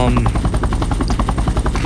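Helicopter in an online shooter video game base battle, a rapid rhythmic rotor chop thudding steadily and loudly through the whole moment, mixed with gunfire-like bursts.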